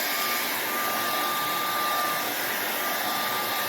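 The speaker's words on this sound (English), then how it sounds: "as we turn on the hairdryer" A hair dryer, used to shrink plastic sealing film over a window, blows with a steady, loud whir and a faint high whine running throughout, close by and unchanging.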